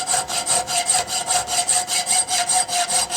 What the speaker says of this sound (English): Hold your file perpendicular to the face of the vise and start filing.